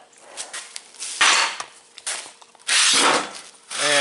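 Hammer blows fall on bent sheet metal held over a big piece of iron while shaping a dash panel for a 1931 Chevy rat rod, several loud, ringing metallic strikes at irregular intervals with short pauses between.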